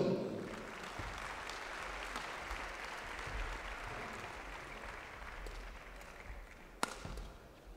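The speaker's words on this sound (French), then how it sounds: "Merci d'applaudir Maria M.Helsbol" Spectators at a badminton mixed doubles semi-final in France applaud as a player is introduced, sustained dense clapping that stays even before fading slightly, with one sharp louder clap near the end.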